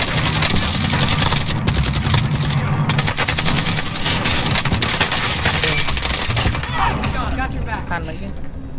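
Rapid automatic gunfire from an AK in Call of Duty Warzone, loud and dense bursts running steadily under busy game sound with music-like tones, easing toward the end.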